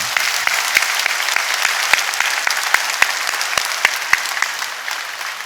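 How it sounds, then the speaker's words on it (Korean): A church congregation at a Korean worship service applauds together, a steady dense wash of many hands clapping throughout with a few sharper claps standing out, no talk over it. "하나님께 영광의 박수 올려드리겠습니다"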